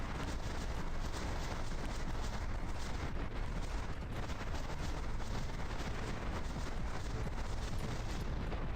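Dense, continuous booming rocket explosions from spammed unguided rockets in a video game, loud and overlapping with no pause throughout.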